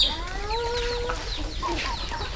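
Chickens cluck and squawk in a rapid, overlapping series of calls, fairly close and loud, against a steady low background rumble.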